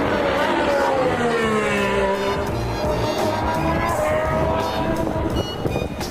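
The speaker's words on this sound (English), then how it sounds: "watching cars going around the track" Formula 1 cars run laps around a circuit during a preseason shakedown, a loud continuous engine roar with rising and falling pitch as cars pass, and a faint voice underneath.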